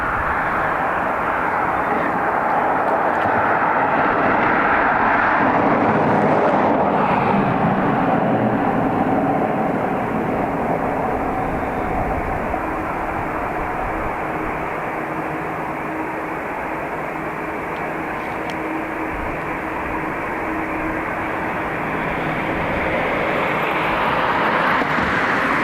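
An airliner, EI748 bound for Bilbao, powers up at Dublin Airport, its engines a steady broad roar that swells slightly toward the start and end, heard from a distance with no voices.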